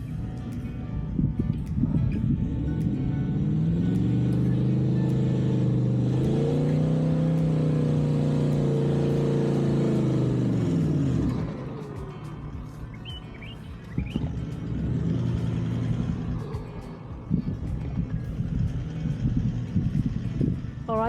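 A car engine revs and strains loudly as the vehicle drives up a sand dune with lowered tire pressure, a steady rising drone for about ten seconds that then drops away into quieter idling and shifting noises.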